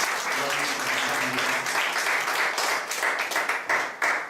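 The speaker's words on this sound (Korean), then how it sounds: "크신 일을 행하실 우리 하나님 앞에 큰 박수 올려드리겠습니다." A church congregation breaks into loud, sustained applause after a prayer, a dense wash of clapping that holds steady for several seconds before tapering at the end.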